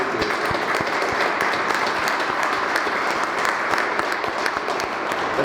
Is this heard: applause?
yes